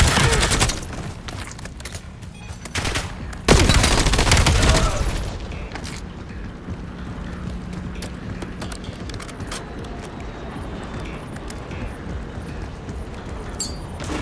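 Suppressive gunfire rattles in Call of Duty Black Ops 7, with dense bursts and a loud blast early on, then thinning to scattered, more distant shots under a steady din, while voices talk over the combat.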